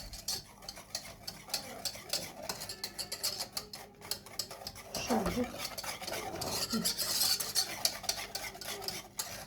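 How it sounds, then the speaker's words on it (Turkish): Cake pudding mixture being whisked in a pot, a fast continuous ticking and scraping of the whisk against the metal that grows louder and busier partway through. "Şimdi bunu bir güzel çırpacağım."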